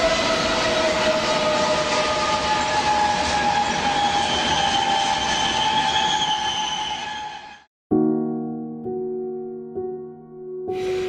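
Union Pacific 844, a steam locomotive hauling a train, rolls past loud and near with a long sustained metallic squeal of braking wheels, then a brief gap and layered tonal squeals as it slows.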